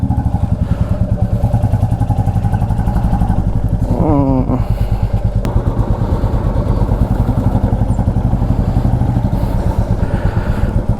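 Royal Enfield motorcycles idle at a service centre with a loud, rhythmic thumping engine beat throughout, and a brief rising whine midway.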